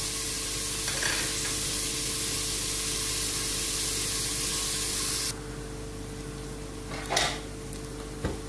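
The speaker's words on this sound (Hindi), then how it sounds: "इनको हम लाइट ब्राउन करेंगे। 7-8 मिनट में ये हो जाएंगे।" Bitter gourd frying in a pan, a loud continuous sizzle close by that drops off partway through, followed by a couple of short clinks of utensils against the pan.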